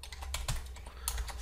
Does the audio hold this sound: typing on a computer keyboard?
yes